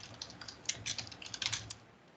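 Rapid keystrokes on a computer keyboard, a quiet, fairly close run of uneven clicks and taps with no voices over them.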